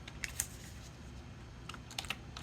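Computer keyboard being typed on in a Linux Mint terminal, a quiet run of separate clicking keystrokes with a few short pauses, heard close up in an otherwise hushed room.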